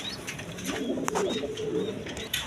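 A pair of Gola-breed pigeons cooing close by in a loft, soft low throaty coos repeating steadily through the stretch with faint background noise.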